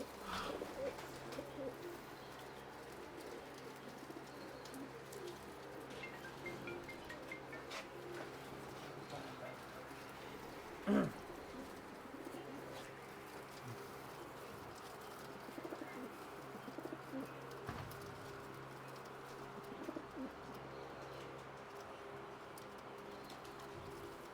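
Soft pigeon cooing runs quietly throughout, with occasional rustles and brief bumps, faint voices now and then in the background.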